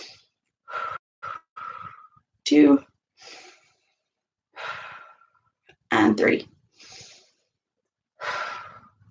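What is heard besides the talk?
three deep breaths in and out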